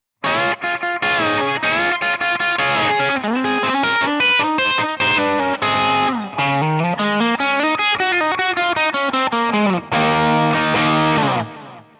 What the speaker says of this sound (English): And that lead tone with our delay sounds like this.